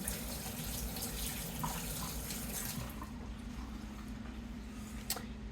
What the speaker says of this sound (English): let me wash that hand again